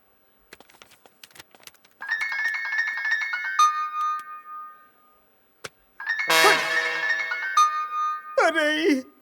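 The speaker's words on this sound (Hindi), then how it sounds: "अरे अंजलि काहे खातिर फोन करत आड़ी?" A phone rings in a Bhojpuri film scene, with electronic ringtone bursts repeating in two long spells separated by a pause and a few sharp clicks, loud and close with no voices over it.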